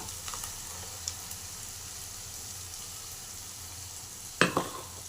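Freshly ground masala sizzles in a pan of capsicum curry, a steady soft hiss broken by a few faint clicks and one sharp utensil clack near the end, with no voices.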